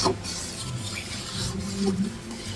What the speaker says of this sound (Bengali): গরম জলটা দিয়ে একটু নেড়ে ছেড়ে দিচ্ছি।